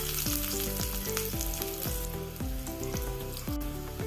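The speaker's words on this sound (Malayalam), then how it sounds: "പിന്നെ 4-5 ചെറിയ ഉള്ളി വട്ടത്തിൽ അരിഞ്ഞതും കൂടി ഇട്ട് കൊടുക്കാം." Four or five sliced small onions frying in hot oil in a pan for kalathappam, a close, steady crackling sizzle with no talking.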